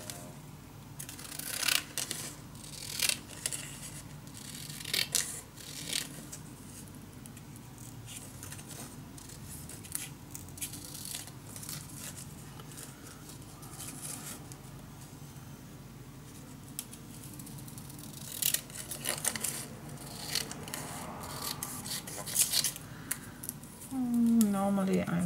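Scissors cutting paper for a scrapbook mini album, with repeated small snips and rustling through the whole stretch, close and fairly quiet, while a person talks at points.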